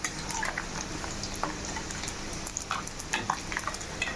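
Chicken pieces for chicken thokku pickle fry in hot oil, giving a steady crackling sizzle throughout with scattered brighter pops and a faint clink now and then.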